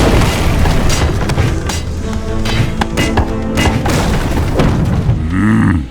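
A loud, booming explosion as a Serpent clan academy is destroyed in the strategy game Battle Realms, with heavy rumbling blasts and thuds layered over dense game noise, ending in a brief tonal effect.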